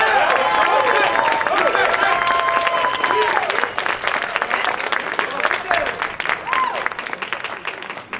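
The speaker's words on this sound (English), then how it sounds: "I wanted to make sure I took time to individually thank them and give them their own individual round of applause" An outdoor high school jazz band audience gives a graduating four-year band member his own round of applause, with dense clapping and some cheers that thin out toward the end. Whistle-like tones ring out over the clapping early on.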